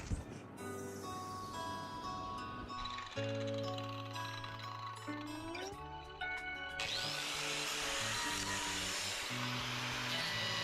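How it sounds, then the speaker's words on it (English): Angle grinder fitted with a sanding disc, working a sink build for a river cabin: a loud whining motor with shifting pitch as the disc bites and bogs, then a harsher, brighter grinding roar toward the end. "I had to really grip this angle grinder firmly because it yanked me away a couple of times"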